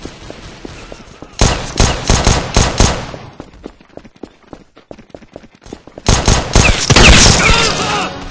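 Gunfire rings out in a shooting video game: a loud rapid burst of shots, a quieter pause with scattered crackles, then another heavy sustained volley.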